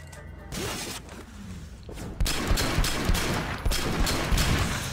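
Rapid bursts of gunfire in the video game Sleeping Dogs crackle in quick succession, loud and dense, with sharp impacts layered over a continuous rumble.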